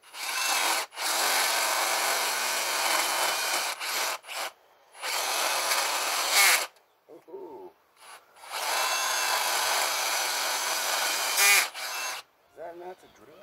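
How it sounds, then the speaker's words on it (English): Power drill boring into wood while building a go-kart, long bursts of grinding, rasping drilling broken by short pauses, close and loud, with brief speech between bursts. "That's for drilling in wood, right?"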